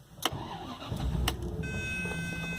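A 1998 Bentley Brooklands R engine is cranked and fires, with sharp clicks and a brief churning start that settles into a steady low idle, fairly quiet and close.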